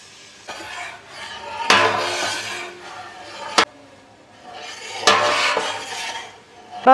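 Roasted dal seasoned with chilli and garlic is tipped into a metal roasting drum, giving a scraping, clinking rush of pouring grains with sharp metallic knocks, rising and falling in two loud waves.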